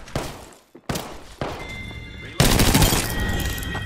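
Gunfire in Apex Legends, several loud bursts of shots in quick succession, building into a dense, sustained volley near the end, with a voice speaking over it.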